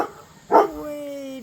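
A dog barks once at a cat in a neighbouring yard during a garden walk, a single short bark followed by a steady hum and faint background tones.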